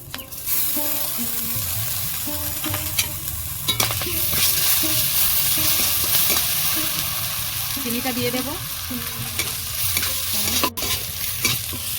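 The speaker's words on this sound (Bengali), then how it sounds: "ভালো করে আমি সব কিছু মশলা দিয়ে ভাজা ভাজা করে নিয়েছি" Ground spices such as coriander, chilli and turmeric with ginger paste frying in a pan for a vegetarian Bengali taro-leaf dish, loud continuous sizzling with busy stirring and scraping, while a voice speaks briefly over it.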